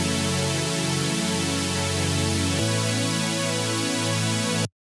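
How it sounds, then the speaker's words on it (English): Loud, sustained supersaw synth chords built in Serum from detuned unison saw waves with noise, compression and hyper dimension fill the sound, shifting to a new chord midway before cutting off abruptly. "These are supersaws, also well known in future bass."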